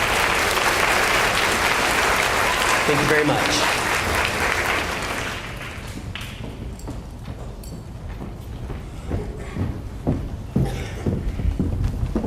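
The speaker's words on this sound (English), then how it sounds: "Let's give these guys one more round of applause." Audience applause at a high school senior awards ceremony, a loud, dense round of clapping that fades after about five seconds into scattered claps and shuffling while a voice briefly says thanks.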